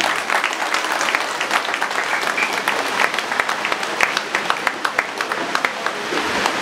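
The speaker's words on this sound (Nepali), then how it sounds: "कृपया एउटा जोरदार तालीले उहाँलाई स्वागत गरिदिनु।" Steady, dense applause from an audience welcoming the newspaper editor at the second anniversary celebration of a Nepali weekly, sustained and fairly loud throughout with many individual claps.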